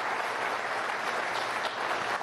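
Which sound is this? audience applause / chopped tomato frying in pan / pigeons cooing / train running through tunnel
audience applause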